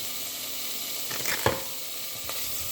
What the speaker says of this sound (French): Donc là, on fait revenir nos petites saucisses, nos oignons